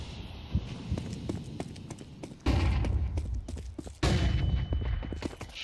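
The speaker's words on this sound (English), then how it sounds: "Throwing a grenade. Throwing grenade. Grenade out." A grenade thrown in a Counter-Strike 2 match, with a sharp clatter and bounce and then two heavy booming blasts amid in-game gunfire, footsteps and ambient noise, all close and loud.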